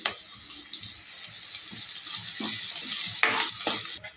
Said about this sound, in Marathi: आपल्याला चांगल्या प्रकारे फ्राय करून घ्यायचा आहे.